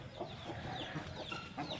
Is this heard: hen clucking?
yes